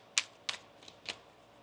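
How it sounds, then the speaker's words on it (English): Tarot cards are shuffled in a few quick bursts: four crisp, separate snaps spaced unevenly, close and fairly quiet, with no talking. "One more shuffle here, please, and thank you."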